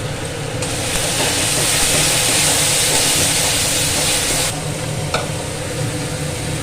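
Spice paste with a little sugar sizzles loudly in a pan while being stirred and fried, a continuous close hiss and crackle with faint scraping, and no voices.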